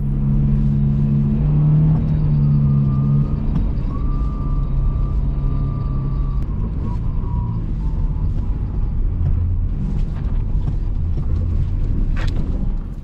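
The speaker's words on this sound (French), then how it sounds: "Le bruit de transmission qu'on entend clairement, c'est dû à la gamme courte que j'ai enclenchée." A Subaru Impreza 2.0R drives on snow in low-range gear with a steady engine rumble and a sustained transmission whine heard close up throughout.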